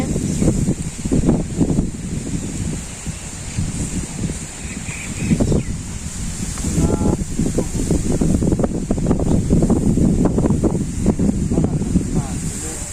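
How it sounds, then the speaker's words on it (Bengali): Wind blows outdoors in a village, a steady rumbling buffet across the microphone throughout, with people talking over it. "বাতাস আছে তো"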